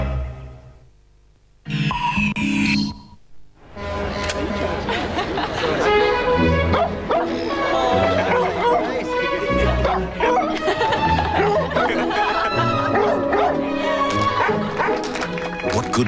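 Dogs bark and yip energetically in a dog food television advert from Perth, 1999, loud and busy over music and talk, after a brief quiet opening.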